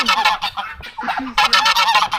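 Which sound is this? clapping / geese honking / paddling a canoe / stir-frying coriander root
geese honking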